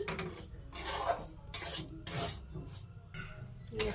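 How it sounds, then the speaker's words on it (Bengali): Semolina is stirred with ghee in a pan over very low heat, making repeated soft raspy scraping strokes in a slow uneven rhythm, close and quiet. "সুজিটা এরকমভাবে নাড়তে হবে, একেবারে লাল করবো না আমি"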